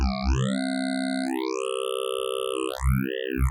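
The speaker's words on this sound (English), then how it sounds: "It's the sound of like a additive filter." A synth tone runs through the additive filter of the Tonsturm spctrl eq plugin, its harmonics sweeping and shifting in pitch, with resonant rising and falling glides across a few seconds and no voices.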